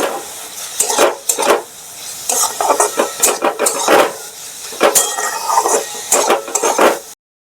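Spoon stirring chicken with turmeric, cumin and coriander powder in a pan, scraping and sizzling in repeated close strokes, loud and steady with short pauses between motions.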